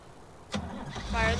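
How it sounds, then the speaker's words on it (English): Tractor engine starting in Farming Simulator 19: a short starter crank, then the engine catching and settling into a rising, steady idle, fairly loud and close. "If I turn the engine on,"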